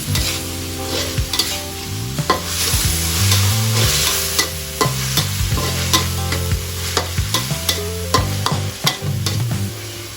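Minced pork stir-frying in a pan for a Thai shrimp-paste dish, loud sizzling with rapid rhythmic scrapes and knocks of a spatula against the pan, heard alone under a steady background tone.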